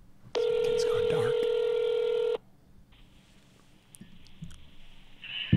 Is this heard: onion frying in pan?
no